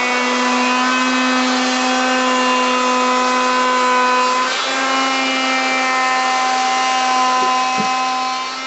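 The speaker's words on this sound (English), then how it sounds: "Now what we're going to do is route an edge on the first piece of our coffin." A router cutting an edge on a wooden piece of a gothic coffin, a loud steady high-pitched motor whine sustained throughout with a slight dip midway, close and alone.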